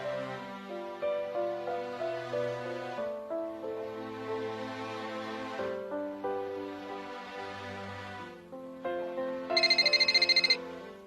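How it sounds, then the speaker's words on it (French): A telephone rings with repeated melodic ringtone phrases, tonal and clear, then a brighter, sharper trilling burst near the end; no talking. "Téléphone."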